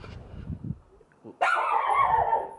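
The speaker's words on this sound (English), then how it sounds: "with the neighbor's dog, just out here celebrating the new year" Neighbor's dog outdoors on New Year's, a single sustained bark or yelp that bursts in loud and close after a stretch of low murmuring and quiet.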